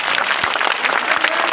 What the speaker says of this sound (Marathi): त्यांच्यासाठी एकदा कडकडून टाळ्या वाजवा